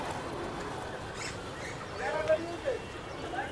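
Pigeons at a busy pigeon market in Tongi call with faint coos and chirps, soft and scattered under steady crowd noise and nearby voices.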